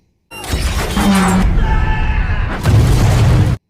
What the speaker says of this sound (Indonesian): namun lift tersebut ternyata telah Clay pasangi bom